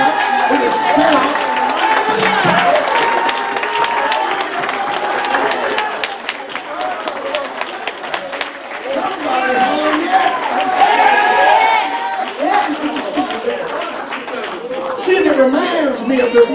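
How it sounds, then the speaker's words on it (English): Church congregation claps and shouts in praise, a loud sustained wash of hand claps mixed with cheering voices and crowd chatter throughout. "Can somebody just stand and praise God right now with a hand clap, with a shout?"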